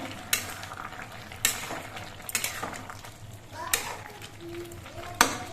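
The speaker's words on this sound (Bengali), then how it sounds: "সবজিগুলো নেড়ে চেড়ে দিচ্ছি" Vegetables stirred in a hot pan, with several sharp scrapes and clacks of a spatula against the metal at irregular intervals over a low sizzle, up close, with a faint voice in the background.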